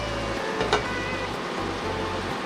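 Carrots, chopped onions, saltfish and thyme saute in a hot pan, giving a steady close sizzle with a faint low hum underneath and a brief stir sound, with no talking.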